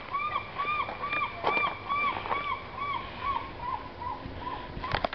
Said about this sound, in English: And the seagulls making all kinds of noise.